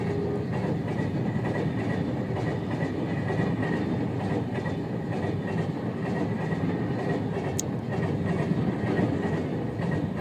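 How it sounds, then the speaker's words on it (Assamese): A train rolls past a railway crossing near Jamuguri station in Assam, a steady loud rumble with rhythmic wheel clatter that fills the whole stretch without pause. "এখন ট্ৰেইন আহিছে ৰেল ক্ৰছিং"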